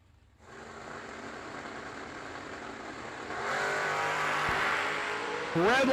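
At a drag strip, a 1984 Chevrolet S10 and an Oldsmobile Cutlass idle and then launch, the engine roar building to a loud sustained rev with a sharp burst at the end; a voice is faintly present.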